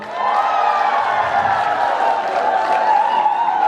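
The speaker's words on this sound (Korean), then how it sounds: "여러분 환영의 박수 부탁드립니다" Sustained crowd applause with cheering and whoops from a concert audience at the Bliss Hotel in Weihai, China, loud and dense throughout, welcoming singer Park Hyun on stage.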